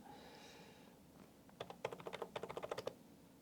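A short burst of quick keystrokes on a computer keyboard as an amount is entered into tax accounting software, about a dozen crisp taps that are fairly close but quiet, with no talking.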